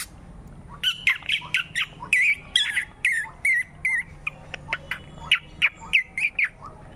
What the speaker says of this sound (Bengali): হ্যাঁ, একটা পাখি।